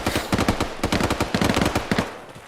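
Sustained machine gun fire in a video game, loud close bursts of rapid rhythmic shots with short gaps between strings of rounds.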